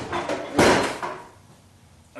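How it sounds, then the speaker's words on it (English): A crescent wrench knocking against the Pitman arm of a 1976 Corvette during steering removal, a loud metallic strike near the start that rings and fades, with a fainter knock at the end. "So I'm going to try to knock it loose"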